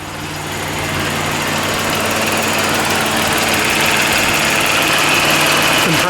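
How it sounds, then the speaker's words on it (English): A Chrysler Imperial's variable displacement A/C compressor runs with a slightly grindy noise. It forms a loud, steady mechanical drone under the engine's idle hum, unbroken from start to finish. "Compressor's kind of making a bit of a grindy noise"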